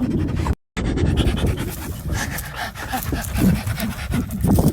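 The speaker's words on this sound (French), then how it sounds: "Ils sont beaux ces chiens." Dogs panting steadily while being petted outdoors, a continuous breathy rhythm close by with soft scratchy handling noises throughout.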